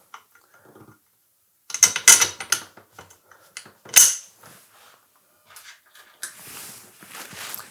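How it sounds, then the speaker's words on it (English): Supplied nuts are tightened by hand onto bolts through the metal frame of a Myco Swivel Bather corner cradle, giving scattered close metallic clicks and small clattering bursts with quiet gaps between them. "And then fix them with the nuts supplied."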